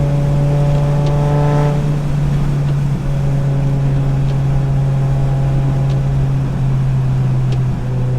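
A steady, loud V10 engine drone with a low exhaust hum from a BMW M5 E60, heard from inside the moving car, holding an even pitch throughout.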